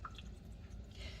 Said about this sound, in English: I'm not pulling, I'm not twisting, I'm just squeezing the excess water.